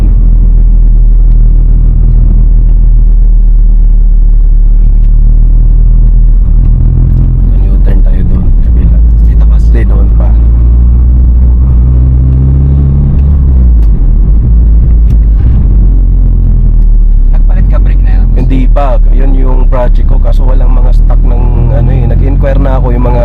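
A Honda City Turbo engine rumbles loud and steady through hard acceleration, droning continuously from start to finish while people talk over it.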